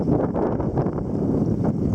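Strong wind gusts during a winter wind storm roar steadily outdoors, a dense, continuous buffeting rush with slight surges throughout, loud and close with microphone wind noise.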